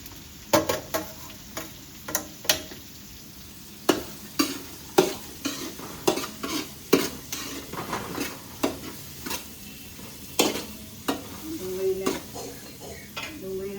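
Onion and green chilies frying for poha while being stirred: a light sizzle under a rhythmic series of sharp spatula taps and scrapes against the pan, close and steady.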